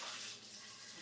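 Tap water running steadily while chicken is rinsed under it in a home kitchen, a faint continuous hiss of flowing water.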